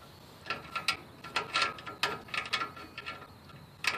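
Pliers turning the adjuster wheel on a GM parking brake, producing rapid bursts of close metallic ratcheting clicks in uneven clusters, with no voice.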